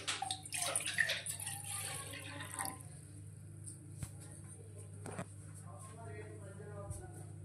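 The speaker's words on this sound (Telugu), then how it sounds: "మీకు ఎన్ని టీలకి ఎన్ని వాటర్ కావాలో అన్ని వాటర్ యాడ్ చేసుకోండి." Water runs into a pot on the stove for spiced lemon tea with cloves and cinnamon, a steady close pour that tapers into quieter trickling, no talk over it.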